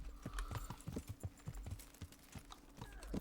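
Horse hooves clip-clopping in the medieval video game Kingdom Come: Deliverance, a quick irregular run of soft thuds close by, fairly quiet, with faint creaks of tack between steps and no talking.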